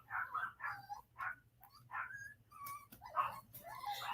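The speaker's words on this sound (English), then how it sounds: "they barking at the people back there at the lake" Several dogs bark and yip at people near a lake, a fairly distant, scattered chorus of overlapping barks and whines with no voices over it.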